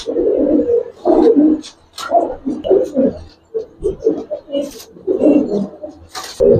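Giribaz pigeons of an old breed give low, throaty coos in repeated rounds, close and fairly loud, with short pauses between the calls.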